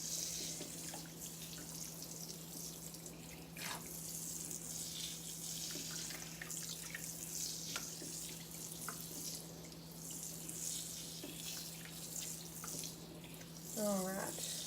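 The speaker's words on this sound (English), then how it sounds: "I'm raising up the hair and making sure that I rinse all the layers really, really good." Water running steadily from a tap to rinse a Yorkie's long coat during a bath, a continuous soft splashing hiss with small drips and shifts as the hair is lifted, heard close and alone.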